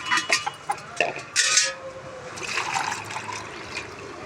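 Water poured from a container into mugs set out on a rooftop terrace for birds to drink: a few short splashing pours up close, then a steadier trickle and gurgle, with no voices.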